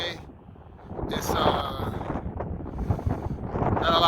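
On a cold, windy May day in Washington DC, gusts of wind buffet the microphone with a steady rumbling roar, loud and close throughout.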